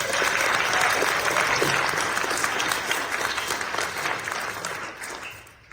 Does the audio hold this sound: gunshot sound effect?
no